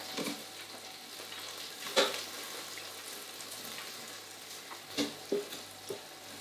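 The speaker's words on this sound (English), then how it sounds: "sizzling away, so I'm going to turn them over." Steady crackling sizzle of chicken wings frying in an air fryer, with a few louder scraping clinks as they are turned over.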